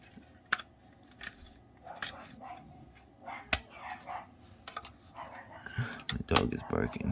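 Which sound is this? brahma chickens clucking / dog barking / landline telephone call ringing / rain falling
dog barking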